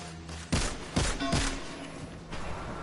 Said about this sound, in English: These fireworks are so lame.